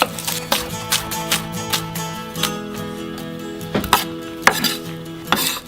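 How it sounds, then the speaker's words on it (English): A knife chops onion finely on a board in a steady series of sharp, close knocks, some pausing and quickening, with a faint hum underneath. "So we're going to finely chop that and then stick it in the pan."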